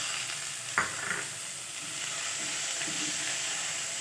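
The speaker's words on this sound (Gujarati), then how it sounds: "આ બધાને આપણે 2 થી 3 મિનિટ એકદમ તેલમાં સાતળી દેવાનું છે." Chopped onion and tomato sauté in hot oil in a pan, a steady soft sizzle running throughout with a brief sharp clink of stirring near the start and faint scraping later.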